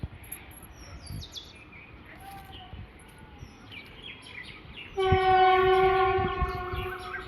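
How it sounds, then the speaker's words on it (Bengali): A train passes at a distance beyond a row of houses, its rumble rising suddenly partway through and holding steady with strong tonal whine, while birds chirp in the background. "ট্রেনটা যাচ্ছে, ট্রেনটার আওয়াজ আশা করি তোমরা সবাই পাচ্ছ।"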